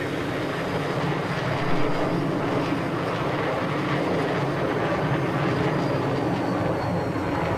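Aircraft engine roar from a Battlefield 6 match, a steady dense rumbling drone that stays loud and continuous throughout, without any voices.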